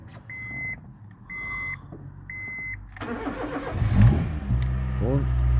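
A 2006 Honda Jazz with ignition switched on gives three short warning chimes, then the engine cranks and catches into a steady idle, close and fairly loud, with a voice speaking partway through.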